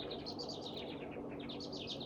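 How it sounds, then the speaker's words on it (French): Small birds chirp faintly in a snowy mountain resort setting, quick high twittering calls in two short bursts over a steady low background hum. "Je sais pas si vous entendez les petits oiseaux."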